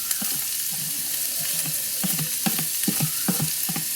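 Chopped celery, carrots, onion and fresh rosemary sizzle in a hot pot, with a steady frying hiss and repeated scraping, knocking stirs from a close utensil.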